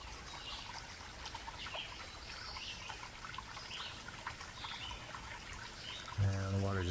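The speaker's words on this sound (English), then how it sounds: "And the water just flows down" Water trickling through a break in garden rocks, a soft continuous outdoor babble with faint bird calls, ending in a short louder tonal noise.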